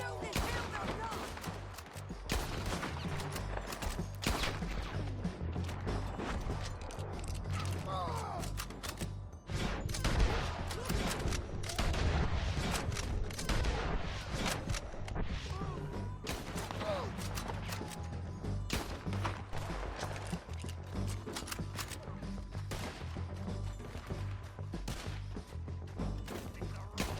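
Shootout gunfire in Red Dead Redemption 2: rapid, overlapping gunshots crack and thud almost continuously for the whole stretch, loud and close, with occasional voices mixed in.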